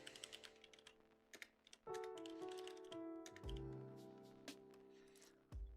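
Computer keyboard typing in a trading setup, quick irregular key taps over a steady background hum with sustained tones, fairly faint and without speech.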